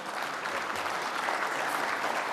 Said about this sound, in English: A round of applause for our newest sponsors